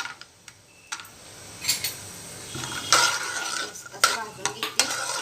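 Pistachios, cashews, almonds and raisins roast in ghee with a faint sizzle as a spoon stirs and taps against the pan in scattered sharp clinks, close by and without talk.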